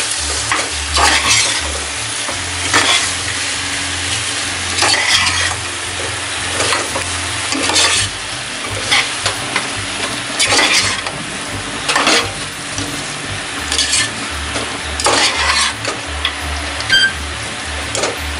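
Mutton kaju bahari stir-frying in a pan, with a steady loud sizzle broken by repeated scraping strokes of a spatula and low rumbling underneath, no voices.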